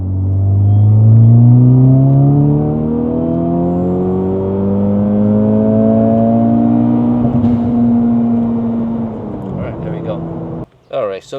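A 2024 Acura Integra DE5 engine on a Hondata flex-fuel E85 tune pulls hard in third gear, its loud rising drone climbing steadily in pitch for several seconds before cutting off abruptly.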